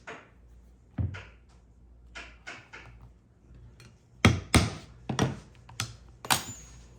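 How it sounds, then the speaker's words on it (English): Sharp percussive strikes punching holes in a leather KaBar knife sheath for cap, socket, post and stud snap hardware, a few light taps followed by a cluster of loud, close hammer blows in quick succession. "now I know where to punch my cap and socket and my post and stud"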